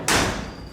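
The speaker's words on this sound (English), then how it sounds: "The door closes really nicely." A door on a 1967 Chevy C10 Stepside barn-find pickup shuts with a single solid thud and a brief metallic ring that fades quickly, close by.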